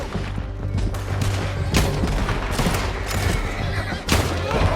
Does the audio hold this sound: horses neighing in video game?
yes